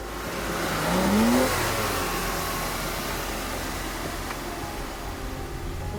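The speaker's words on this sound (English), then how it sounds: "A blip of the throttle is scintillating. The engine responds with an aliveness that only a pre-smog carbureted V12 does." A carbureted pre-smog Ferrari 330 GTC V12 is blipped at idle before a gear is selected, with a brief rising rev swell near the start that settles back into a steady engine hum under broadband air noise.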